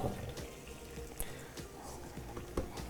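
Tap water runs steadily into a sink as a plantain is rinsed under it, a continuous close splashing wash with a few brief knocks and drips over the flow, and no talking.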